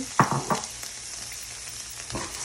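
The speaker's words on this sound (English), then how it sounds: "start off with some minced garlic and some onions. We're gonna add that to our hot pan" Minced garlic and onions are frying in a hot pan, giving a steady bright sizzle, with a few sharp clatters near the start as they hit the pan and stir, and no talking.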